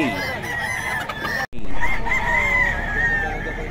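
Roosters and chickens at a crowded market day in Bocaue crow and cluck loudly and close by, with long drawn crows overlapping a steady din of poultry and crowd noise.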